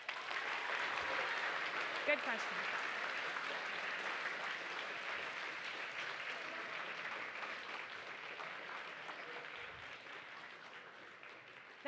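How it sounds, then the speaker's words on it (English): Steady audience applause at a live stream event runs throughout at moderate level, with a speaking voice briefly over it. "Could you please give her a round of applause?"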